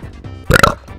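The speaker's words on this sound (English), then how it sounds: "Excuse me, rate that burp in the comments below." A loud burp bursts out mid-clip during a Super Mario RPG gameplay commentary, a short rough eructation of about a quarter second rising above low background noise.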